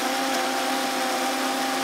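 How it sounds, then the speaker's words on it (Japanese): A kitchen blender whirs as it mixes banana, protein powder, milk and a little honey into a morning drink, giving a steady, even, close-up motor drone with no talking. "バナナとプロテインと牛乳と少し蜂蜜を入れて、これをいつも朝ミキサーにかけていきます"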